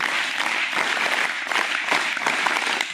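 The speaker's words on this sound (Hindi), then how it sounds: "गुड ताली बजाओ।" Crowd of children clapping at a scout and guide closing ceremony, a loud, dense and continuous patter of many hands filling the whole moment without pause.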